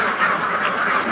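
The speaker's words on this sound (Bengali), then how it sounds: "1390 পিস মতো হাঁস আছে" Ducks on a farm of about 1,390 birds during morning feeding, a dense chorus of overlapping quacks close by, continuous throughout.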